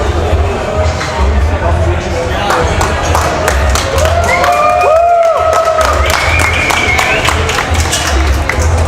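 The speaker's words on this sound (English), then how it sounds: "Crowd is still clapping" A crowd at a national weightlifting championship claps and cheers loudly and continuously, with rapid overlapping claps, shouted cheers and whoops rising above the roar in the middle.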